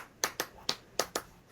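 Five sharp hand claps come in an uneven, quick rhythm, close and fairly quiet, with no voices.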